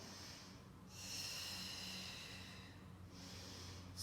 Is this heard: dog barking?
no